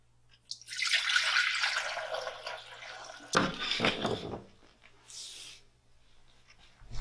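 Home-brewed kombucha tea poured from a jug into another jug set in a kitchen sink, a steady close liquid stream for several seconds, then splashy gurgles, a few drips and a brief hiss near the end.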